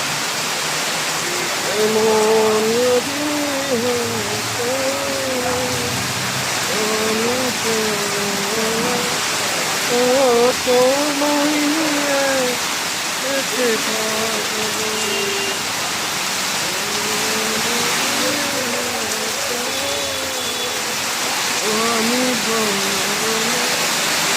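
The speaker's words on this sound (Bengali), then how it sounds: "কি বৃষ্টি হইতে দেখেন" Heavy rain pours steadily through a storm in Feni, a dense, constant roar close by, while a voice talks intermittently over the downpour.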